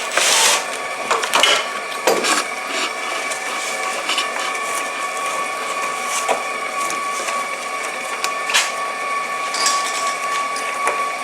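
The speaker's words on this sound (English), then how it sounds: "we're going to take off of these 4 bolts around this next piece of plastic that guides the air in" Bolts taken off a plastic air guide make close, loud ratcheting and clicking with metallic scrapes and knocks, in irregular bursts over a steady mechanical hum, no talking.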